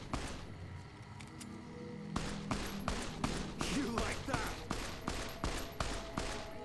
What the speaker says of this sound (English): Oh, I see gunfire. Who's shooting who?